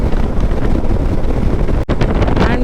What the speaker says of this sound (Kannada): ಯಪ್ಪ ಹೆಂಗೆ ಗಾಳಿ ಬರ್ತಿದೆ